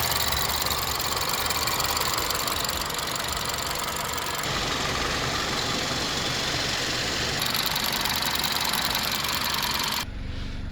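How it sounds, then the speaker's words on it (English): A 2018 BMW X1 engine idling steadily with a fine, rapid ticking chatter and a constant hum, heard close up throughout and briefly cutting out near the end. "Alright, the engine seems to be running fine."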